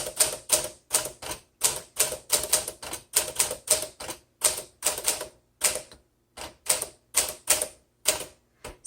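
Someone types briskly on a 1953 Smith Corona Sterling 5A typewriter, with sharp mechanical key strikes in quick, uneven bursts and brief pauses between them.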